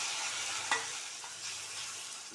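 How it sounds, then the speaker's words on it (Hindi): Tomatoes fry with ginger-garlic paste in a pan for paneer tikka masala, giving a soft, steady sizzle with one sharp clink of a utensil near the start. "तो टमाटर यहाँ पर बहुत ही अच्छे से भुन गए हैं"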